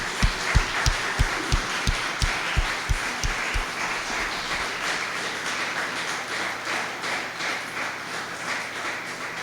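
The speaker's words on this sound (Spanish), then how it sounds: "Vamos a darle un aplauso al Señor." A church congregation claps together, about a dozen loud rhythmic unison beats in the first few seconds before dissolving into a softer, sustained patter of scattered applause that continues to the end.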